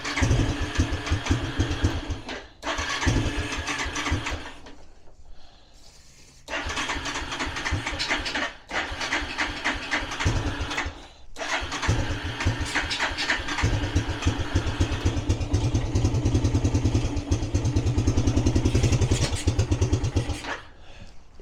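A Suzuki LT300E ATV engine cranks and catches after a carburetor rebuild, running cold without choke. It comes in loud, close bursts with brief pauses between them, then settles into a steady, continuous running note.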